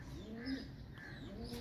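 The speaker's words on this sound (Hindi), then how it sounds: "इस वक्त मेरे हाथ में कबूतर मौजूद है" A pigeon held in the hand coos softly, low rounded calls rising and falling across a short stretch with faint background murmur.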